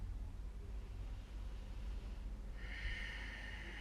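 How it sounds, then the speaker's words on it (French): Deep ujjayi yoga breathing, the throat slightly constricted so the breath is audible: a soft, close, steady airy rush that grows into a brighter hissing breath in the last second, with no talking. "Contracte l'arrière de la gorge pour émettre cette respiration sonore, puissante, profonde."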